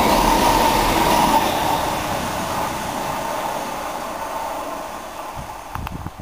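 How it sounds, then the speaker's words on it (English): A train bound for Peterborough rolls through Needham Market station: a loud, broad rumble and rushing noise close by that slowly fades as it passes, with a few clanks near the end. "here comes a turnstile unit now, on its way to Peterborough, about to pass the Needham Market Station"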